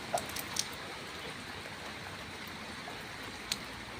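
Rainwater drips in an overcast village beside chili plants: a few soft, separate drops land close by, two early and one later, over a quiet background hiss.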